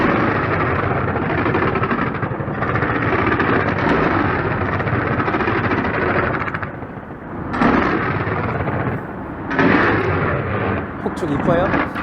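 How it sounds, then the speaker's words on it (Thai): Fireworks burst and crackle in dense, loud volleys over a Bangkok outdoor event, a continuous roaring barrage with brief pauses between salvos. "พลุสวยไหมคะ"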